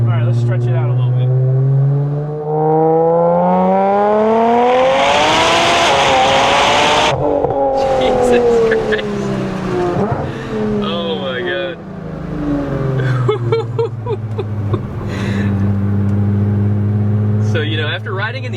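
A Nissan Skyline GTR accelerates hard from inside the cabin during a ride-along, the engine rising through the revs, easing off briefly and climbing again, loud and close, with occupants talking over it.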